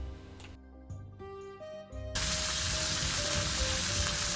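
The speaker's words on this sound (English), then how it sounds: "we're going to pan fry our tenderloin on 4 sides" Pork tenderloin hits a pan of hot olive oil with fresh rosemary and sizzles loudly and steadily up close, following a few seconds of soft music.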